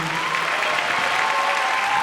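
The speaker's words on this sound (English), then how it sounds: "Can we get a round of applause for Dawn, please?" Steady, dense clapping from a sizable crowd, loud and continuous throughout without a break.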